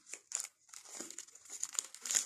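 Soft, close crinkling and crumpling of paper or plastic being shaped into a decorative flower for Ramadan decorations, in irregular bursts of rustling.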